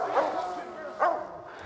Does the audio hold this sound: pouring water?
no